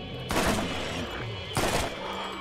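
Two loud, dense bursts of burst-fire gunshots from a weapon in the video game Borderlands, about a second apart, over a steady game background rumble.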